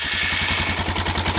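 A Suzuki DR650 motorcycle engine just started runs with a fast, even thumping idle, loud and close, with no voices.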